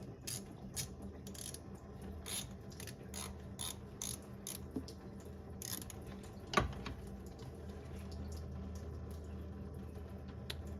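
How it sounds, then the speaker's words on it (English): A ratchet loosens a bolt during thermostat replacement on a 2011 Subaru Impreza 2.5i, with coolant draining: a steady run of quick, close, dry mechanical clicks repeating throughout, punctuated by one sharper metallic knock midway. "Trying to loosen that bolt."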